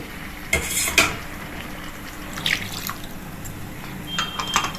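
Water is poured into simmering gravy for a bottle gourd dish, with a few splashing pours and light clinks of a pot and utensil, fairly close and quiet.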